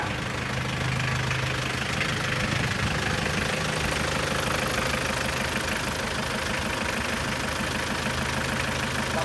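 A 1993 Mitsubishi Cab pickup idles with a steady, loud, rough engine rumble and a slight knocking character, continuous and close throughout with no pauses.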